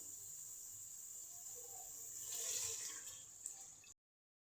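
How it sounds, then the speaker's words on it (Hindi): Water pours steadily into a pot of black chickpea curry with a soft hissing splash, swelling briefly louder before cutting off abruptly. "तो इसमें डालेंगे हम पानी।"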